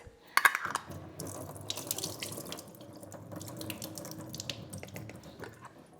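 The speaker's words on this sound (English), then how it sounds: "You want to drain the juice." Juice pours steadily out of an opened can into a sink, a continuous splashing trickle that stays close and fairly quiet, with a few small clinks near the start.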